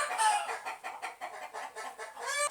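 Roosters on a neighbouring property crowing and clucking in a rapid series of harsh, bright calls, fairly close and loud, with no talk over them.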